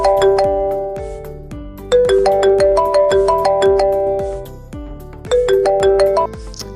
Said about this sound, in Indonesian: bunyi dering telepon tadi itu disebut sebagai rangsangan distal